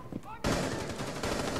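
Gunfire in the video game Rainbow Six Siege during a terrorist hunt, a burst of rapid loud shots starting abruptly and continuing densely to the end, after a moment of faint voice.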